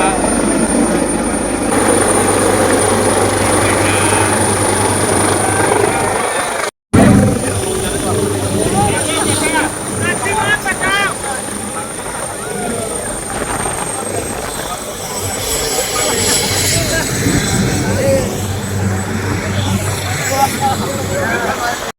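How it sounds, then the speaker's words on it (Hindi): A helicopter carrying the chief minister arrives, roaring loudly and steadily nearby, rotor thumping throughout, with a crowd's babble and voices beneath at a funeral-rites gathering in Ganiyari; the noise briefly cuts out once. "सीएम भी पहुंचे हेलीकॉप्टर में"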